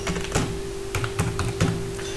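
Computer keyboard typing as an email address and password are entered, a few close bursts of key clicks with short pauses between them, no voices.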